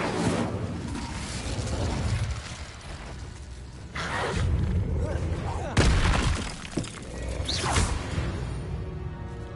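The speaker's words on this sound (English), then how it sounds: "Incendio!" An Incendio fire spell is cast in Hogwarts Legacy, bringing loud whooshing bursts, crackling shatters and booming impacts over a busy game soundscape, with speech mixed in.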